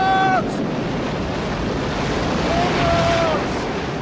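Strong wind and crashing waves in a storm at sea around a small boat roar as a continuous broad rush, with a brief shouted voice at the start and more cries later.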